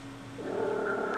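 A cat gives a short, low, drawn-out meow, close by and fairly quiet.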